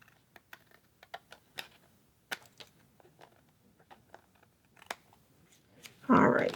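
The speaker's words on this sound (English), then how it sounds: "sometimes I just feel like using my scissors instead of using" Scissors snipping paper during crop layout work, a series of sharp quiet clicks and cuts in irregular rhythm, close and soft, ending with a louder rustle of handled paper.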